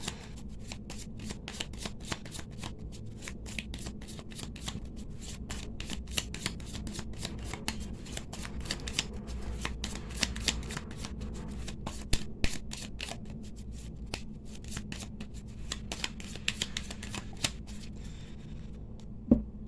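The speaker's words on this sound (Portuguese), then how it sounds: "Então, embaralhei, cortando aqui." A deck of Cigano (Gypsy) tarot cards is shuffled and cut, giving a long run of dense, rapid papery riffles and flicks at close range with a few sharper slaps, no voices.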